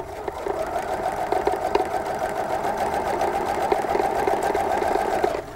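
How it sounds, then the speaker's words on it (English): A sewing machine stitching a quilt seam on fabric, a loud close steady whirring hum with a fast mechanical needle rhythm that runs for about five seconds, then stops. "hold that fabric down just before you get to it so it can go under real nicely"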